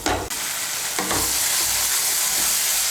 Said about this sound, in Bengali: ভালো করে মিশিয়ে নিয়ে মশলাটাকে ভালো করে কষিয়ে নেব।